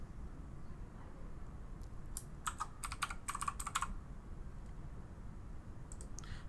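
Quick bursts of key clicks on a computer keyboard as text is typed, soft and close, in a quiet room with no talking.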